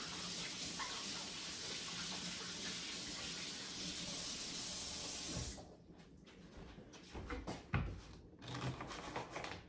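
Tap water runs steadily onto a cut vegetable being rinsed in a kitchen sink for about five seconds, then stops, followed by a few light clunks and handling sounds nearby.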